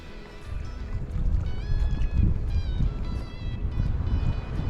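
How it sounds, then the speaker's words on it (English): Wind gusts outdoors beside a wilderness lake in Oregon while trout fishing, a loud rumbling buffet on the microphone rising and falling, with a faint high whistling tone mixed in. "Ooh, it's windy."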